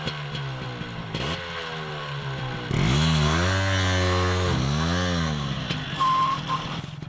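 A motorcycle engine just back from a carburetor repair is revved hard with the throttle, its loud, near tone climbing and falling through two sustained surges. No one speaks.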